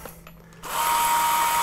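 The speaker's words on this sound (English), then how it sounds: "We're going to not use the hammer drill function, just the regular drill. We'll go on a relatively low speed." A power drill in regular mode with the hammer function off spins up and holds a steady, fairly loud whine at low speed after a few faint clicks.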